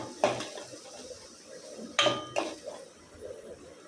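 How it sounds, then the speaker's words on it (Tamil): A few sharp metal clinks of a spoon against a pan while ten cloves of garlic are stirred for a Sankara fish curry, with soft scraping between the quiet knocks. "பத்து பல் பூண்டு சேர்த்துக்கலாங்க அதை நல்லா கலந்து விட்டுக்கலாம்"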